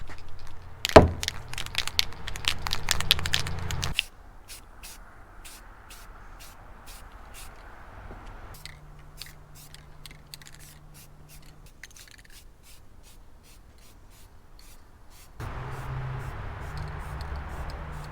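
An aerosol spray paint can gives steady hissing sprays in several long bursts separated by quieter pauses, with faint clicks and rattles in between, while painting muscle car parts.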